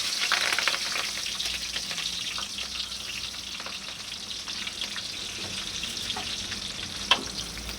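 Onions and green chillies frying in oil for biryani give a steady, close sizzle with light stirring scrapes and one sharp clink near the end, with no voices.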